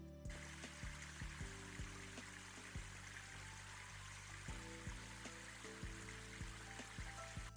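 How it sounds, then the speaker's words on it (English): A small New Hampshire stream flows as water is collected into a Hydropack Seeker 2-liter reservoir, a faint continuous trickle and burble with no voices. "collect water from a stream using a reservoir, which I'm about to demonstrate from a stream up in New Hampshire"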